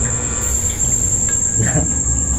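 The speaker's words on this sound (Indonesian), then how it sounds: "Jangkrik." A cricket chirps in a short burst over a loud constant high whine and background rumble, brief and moderately near.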